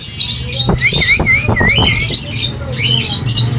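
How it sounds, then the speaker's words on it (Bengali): A young sun conure parrot gives repeated shrill, screechy calls in quick succession, loud and close, with squawky notes rising and falling throughout. "সানকনোর পাখির বাচ্চা সেলফির কাছাকাছি হয়ে গেছে"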